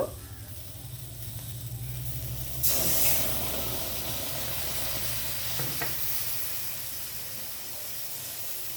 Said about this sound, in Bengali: এই তেঁতুল জলে একটুখানি এটা সেদ্ধ হতে থাক